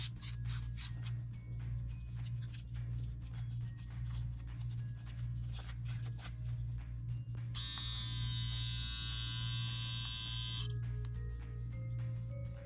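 An Ambition Soldier wireless tattoo machine running on battery power, a steady close electric buzz that holds throughout and grows louder and brighter for a few seconds near the end, with no talk.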